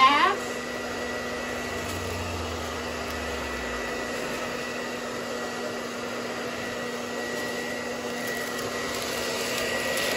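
A hair dryer blows steadily on plastic shrink wrap around an Easter basket, a continuous broadband whoosh with a faint whine that runs unbroken and fairly close throughout.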